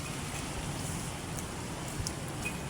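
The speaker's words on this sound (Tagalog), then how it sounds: "So, umuulan." Rain falling during a typhoon, a soft, steady patter with a few faint drips, heard outdoors at low volume with no talking.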